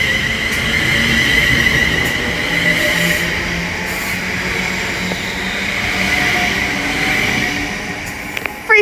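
A London Northwestern Railway passenger train rumbles steadily through Leighton Buzzard station on the West Coast Main Line, with a constant mechanical hum and a high whine, fairly loud and close, no voices.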